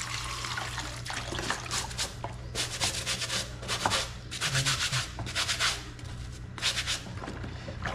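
Strong running water at a house, heard as rushing, splashing bursts that swell and fade in uneven surges over a low steady hum, fairly close and with no talk.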